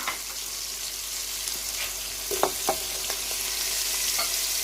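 Masala with chopped tomato and ginger-garlic paste frying in a pan for shalgam chicken, giving a steady soft sizzle with a few light stirring clicks and scrapes, fairly close, with no talking.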